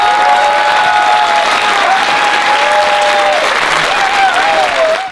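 Sustained audience applause for main card fighters at a combat sports media day event, loud and steady with crowd whistles and whoops rising over the clapping throughout, fading out at the very end.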